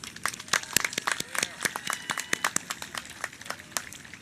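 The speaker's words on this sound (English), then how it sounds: "Give them all a well-deserved round of applause" Scattered, uneven clapping from an audience at an adult school graduation ceremony in 2021, sparse individual claps rising and falling rather than a full roar, with faint voices beneath.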